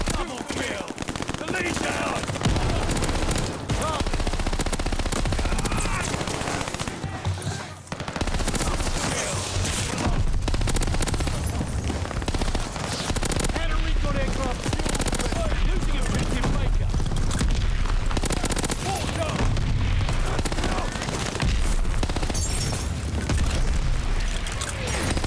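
Rapid submachine gun fire from an M1928 in Call of Duty Vanguard multiplayer, with dense continuous bursts and booming impacts filling the whole stretch, loud and close throughout.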